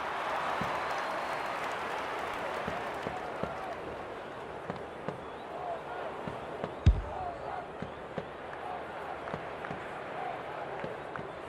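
A crowd at an Australian football match in the AFL26 video game makes a steady roar, with scattered claps and thuds at a moderate distance and one sharp bang near the middle.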